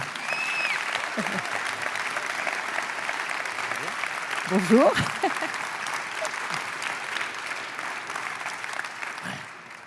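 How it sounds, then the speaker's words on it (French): Audience applause fills a hall after a contemporary dance performance, steady dense clapping throughout at moderate distance, with a presenter's voice speaking briefly over it. "on peut encore applaudir Luc"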